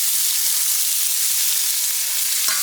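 Onion hitting a hot pan at the start of a pasta fagioli, giving a loud, steady frying sizzle that holds evenly throughout with no talking.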